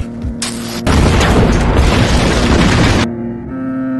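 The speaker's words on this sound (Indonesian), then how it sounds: "Otowa meledakkan diri di kediaman Uramura" A huge explosion at a residence in the Rurouni Kenshin film, a loud sustained roaring blast lasting a couple of seconds before falling away to a lower rumble.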